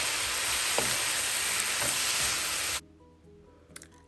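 Cooked rice being stir-fried in a hot pan for fried rice, with a loud, dense sizzle and a couple of stirring scrapes, cutting off abruptly to near quiet with faint clinks.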